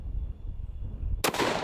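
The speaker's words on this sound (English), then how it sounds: "that 460 muzzle blast is pretty big" A single loud muzzle blast from a .460 rifle firing a 500-grain round, sharp and close, cracking out suddenly after a low rumbling background.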